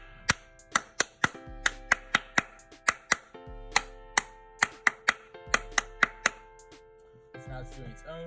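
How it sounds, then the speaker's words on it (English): Sharp, close hand claps in an uneven rhythmic pattern, about two dozen crisp strikes in bursts separated by short pauses, each followed by electronic tones from a Circuit Playground Express board. "Now I'm gonna start my claps."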